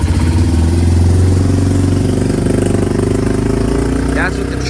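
A John Deere lawnmower engine runs steadily after a cold start with the choke pulled out, giving a loud, close, even low drone with a rapid putter, and a voice talks over it.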